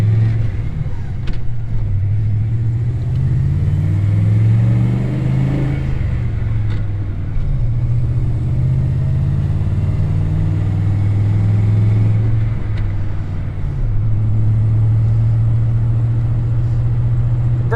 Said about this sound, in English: Abby decided to get in the truck with us for our road test.